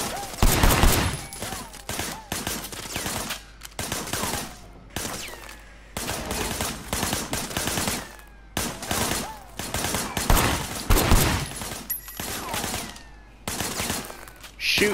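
Sustained gunfire in the video game Sleeping Dogs, loud rapid bursts of automatic fire with brief gaps, continuing almost without pause throughout.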